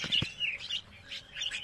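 Bulbul chicks in a cage give high, thin chirps in short repeated bursts, close and fairly soft, with a faint low knock near the start.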